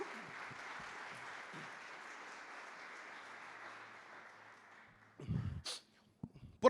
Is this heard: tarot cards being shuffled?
no